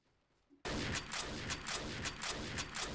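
Rapid automatic gunfire in the shooter game XSHOT, starting abruptly after a quiet moment and continuing as a loud, dense, steady burst of shots in a regular rhythm.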